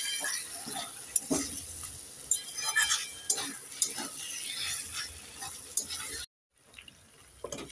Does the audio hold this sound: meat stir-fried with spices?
yes